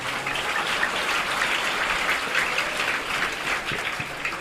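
Sustained crowd clapping in encouragement during a Burmese talk on laziness, freedom and discipline, a thick, even patter like heavy rain that holds at full strength throughout.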